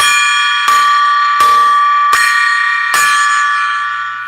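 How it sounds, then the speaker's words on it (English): A metallic gong struck five times at a steady pace, each hit loud and ringing with a bright sustained tone that overlaps the next, the final strike decaying longest. "We got to ring the gong 5 times."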